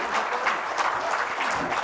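An audience at an administrative services association gathering applauds to welcome a guest, a dense, steady wash of many hands clapping at moderate distance throughout.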